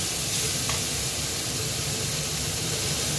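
Shrimp frying in a pan with vegetables such as bottle gourd and potato after spices go in, producing a loud, continuous hissing sizzle up close that holds steady with no talking.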